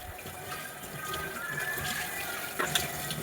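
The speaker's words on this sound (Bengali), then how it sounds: "বসিয়ে দিয়ে এখন হচ্ছে বাসন মাজছি।" Tap water runs steadily into a sink while dishes are scrubbed, a continuous close hiss with faint clinks and a brief splashy surge near the end.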